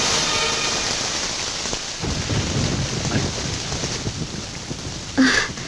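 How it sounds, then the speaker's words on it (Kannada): Steady rain pours throughout, a loud continuous wash with rumbling thunder beneath it, a sharper crack near the end, no voices. "ಏನಿದು ಮಳೆ ಬರ್ತಾ ಇದೆ"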